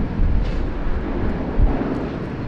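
Jetstar flight 848 departing Sydney Airport for Hamilton Island, a loud, steady low jet engine roar with wind rumble, no voices.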